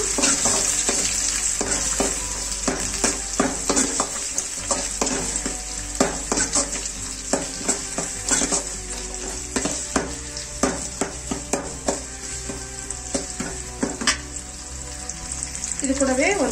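Chopped onion with curry leaves sautéing in a pan, a constant sizzle broken by frequent rhythmic clinks and scrapes of a spatula against the pan, close and fairly loud, without talk.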